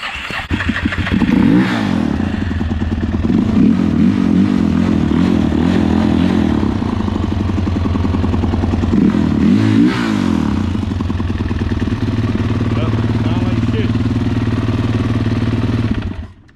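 A Suzuki LTZ 400 ATV with carburetor trouble idles roughly and loudly close by, its engine chugging unevenly with brief surges for about sixteen seconds before cutting off.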